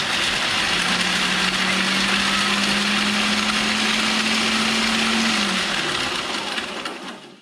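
A food processor on its low setting grinds pork rinds with a steady motor whir lasting several seconds before winding down, close and loud.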